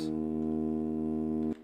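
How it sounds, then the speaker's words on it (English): A steady, buzzy bowed hurdy-gurdy drone holds one sustained pitch with strong overtones, panned left, then cuts off abruptly near the end. "I take the hurdy-gurdy drones and I pan them between 20 and 30 left"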